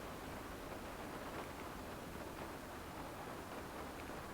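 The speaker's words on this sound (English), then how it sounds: "The lovely sounds of rain" Steady, faint rain hissing evenly on a car at a riverside campsite at night, with no breaks, a soft continuous patter without other sounds.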